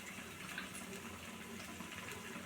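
Water pours steadily into a pan of masala with a soft, even gush for a couple of seconds, fairly quiet.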